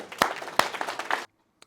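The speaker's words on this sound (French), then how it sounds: "applaudissements" A handful of people clap in a short burst of applause at a CrossFit squat-technique session, a few sharp claps standing out over scattered patter before it cuts off abruptly.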